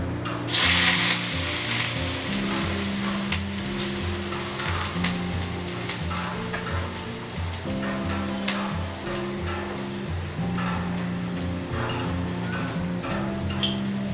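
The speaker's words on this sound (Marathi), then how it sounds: "आता आपण डायरेक्ट कांदा फ्राय करून घेणार आहे" Chopped onion frying in a pan at home, a continuous loud sizzle with crackling bursts strongest at the start, running steadily throughout with no talking.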